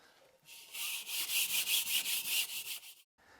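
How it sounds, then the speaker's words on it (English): A scuff pad scrubs a floor surface in preparation for tiling, producing a loud, close scratchy rubbing with about a dozen rhythmic back-and-forth strokes over roughly two and a half seconds. "I use a scuff pad like this to scuff the surface so the tile will adhere properly"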